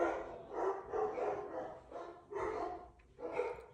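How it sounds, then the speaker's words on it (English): Several dogs bark loudly and repeatedly in bursts close by, with short pauses between volleys and no talking. "My dogs are being really loud."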